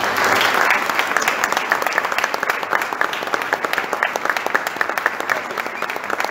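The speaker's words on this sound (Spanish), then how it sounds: "quiero felicitar especialmente a la nueva filial incorporada, la filial Catamarca, por la cual pido un aplauso" Sustained audience applause for a new Catamarca branch joining an Argentine-Lebanese association, a dense, steady wash of many hands clapping close and loud throughout, with no talk over it.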